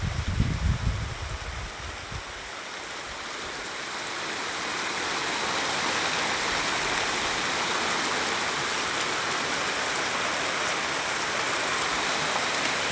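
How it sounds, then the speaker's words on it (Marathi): Heavy monsoon rain pours down in the Pandharpur–Mangalvedha area, a dense, loud, continuous roar of falling water that swells and holds steady. A brief low rumble or handling noise is heard at the start. "पंढरपूर मंगळवेढा या भागामध्ये मुसळधार पावसाला सुरुवात झालेली आहे"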